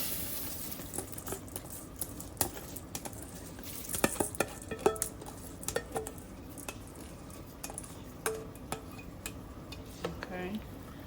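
Rice and peas with black beans and coconut milk being stirred in a pot, giving scattered scrapes and clinks of a utensil against the pot over a low simmering bed, moderately close, with no talking.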